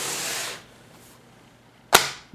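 The magnetic keyboard of a Microsoft Surface Pro snaps onto the tablet's bottom dock with a single sharp, loud click, close up, following a brief rustle and a moment of quiet.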